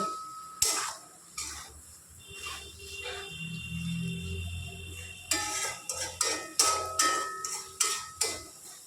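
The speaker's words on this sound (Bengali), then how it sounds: "পোস্ত চারমগজ বাটাটা দিয়ে মামুনি ভালোভাবে ভেন্ডির সাথে মিশিয়ে নিচ্ছে।" A utensil stirs okra with a paste of poppy seed and melon seed in a pan. Quiet scraping gives way to a run of sharp, rhythmic metallic clinks close by, with no voices.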